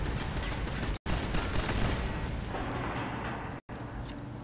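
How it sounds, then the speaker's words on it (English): Automated turrets in Fallout 4 fire a dense, continuous burst of rapid gunfire, loud and close, broken by two abrupt split-second dropouts. "Shit, turrets."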